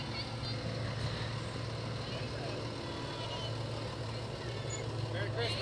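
A truck towing a trailer of big garbage bins rolls past in a Christmas parade, a steady low engine rumble with hiss and crowd voices over it throughout.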